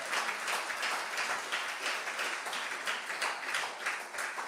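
A church congregation at a worship service applauds and cheers together, a rolling wash of many hands clapping with rhythmic pulses, sustained and fairly full throughout the short stretch.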